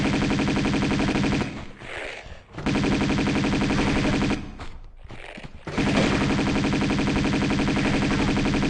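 Enemy shotgun fire in the Tomb Raider II video game, loud dense rapid blasts that run almost without a break and stop for two short gaps.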